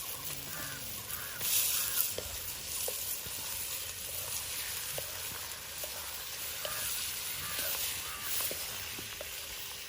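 Large cleaned prawns dropped into a hot pan without water sizzle steadily for Kerala-style prawn roast, a continuous close frying hiss with occasional small spoon scrapes, no talk.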